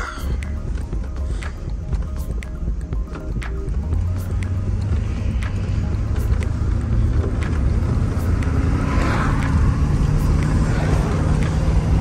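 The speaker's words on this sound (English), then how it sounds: "we're gonna cruise it down the road a mile or two and see what we can do" A 1999 GMC Sierra SLT long-bed pickup with a 7.4L 454 V8, driven down a road with the windows down, making a loud, steady low engine drone and road rumble with wind noise throughout, close up and continuous.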